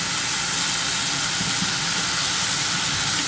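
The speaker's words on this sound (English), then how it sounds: "Here it's starting to sizzle" Steady, dense sizzling hiss of hot oil in a pan, continuous and close, with no voices.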